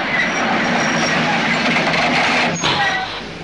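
A loud passing train rumbles and clatters close by, with a brief hiss of air brakes near the end as the noise tapers off.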